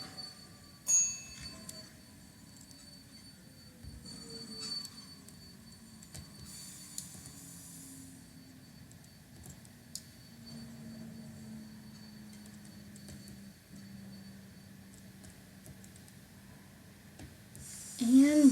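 A train in the Terminal Railways video game slows under braking, its low rumble with a gradually falling tone and faint wheel squeal, ending in a sharp high screech as it comes to a halt.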